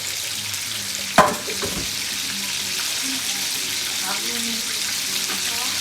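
Chicken thighs fry in a hot pan with a steady, loud broadband sizzle and a single sharp clatter near the start, then an even crackle with faint background murmur.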